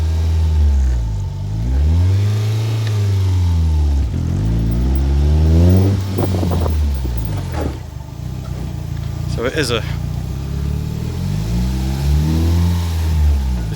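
A Mazda MX5 engine fitted in a brand-new Westfield locost kit car, running a factory ECU on a basic wiring harness, revs up and down repeatedly, loud and close, while people talk over it.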